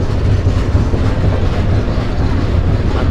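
A train rumbles steadily near Ibrahimabad railway station in Bangladesh, a loud continuous low roar of wheels and carriages with faint rhythmic clatter and no voices.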